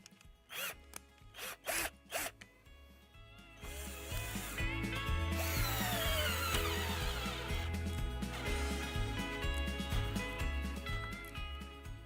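A few sharp clicks and handling knocks come first, then an Avid Power budget cordless drill spins up into a loud, sustained, whining motor run that holds steady for several seconds, close to the microphone.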